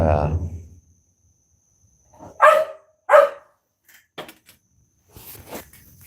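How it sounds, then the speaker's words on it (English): A pet dog barks indoors, giving a few loud, close woofs in two quick bursts followed by fainter yips and scuffles, with a voice heard at the start. "Your dog, Bill, your dog is barking."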